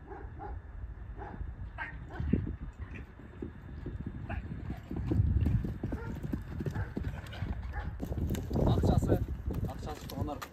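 Horse hooves clip-clop in a quick, irregular rhythm, close and fairly loud, with heavier bursts midway and near the end, while people talk and a dog may bark in the background.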